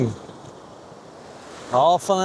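Ocean surf washes and breaks along a sandy fishing beach with steady hiss and wind, and a short burst of voice near the end.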